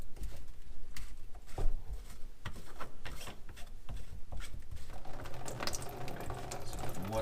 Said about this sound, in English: So the water is starting to come out